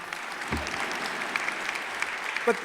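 A large commencement audience applauds in a steady, even wash of many distant hands for the whole stretch, with a brief voice heard faintly over it.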